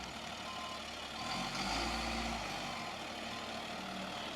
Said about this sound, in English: So he's backing up here on the drive of the lot that we just measured